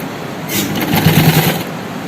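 A sewing machine stitching the folded hem of an umbrella frock, a brief close burst of fast rattling needle strokes lasting about a second over a steady background hum.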